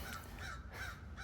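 Crow cawing, a few harsh drawn-out calls in succession over a dense, noisy outdoor background, fairly close and clear, no talking.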